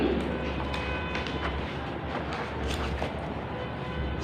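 A train rumbles steadily along the track, a continuous loud roar with faint rhythmic clatter of wheels, close by throughout.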